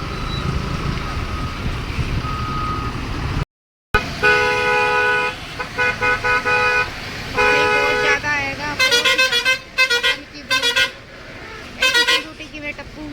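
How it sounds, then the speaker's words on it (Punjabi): A vehicle behind on a muddy, waterlogged road after rain honks again and again in loud, close blasts, followed by rapid pulsing beeps amid traffic noise and trucks. "ਪਿੱਛੇ ਇਹ ਗੱਡੀ ਵਾਲਾ ਬਹੁਤ ਜ਼ਿਆਦਾ ਹੋਰਨ ਮਾਰੀ ਜਾਂਦਾ"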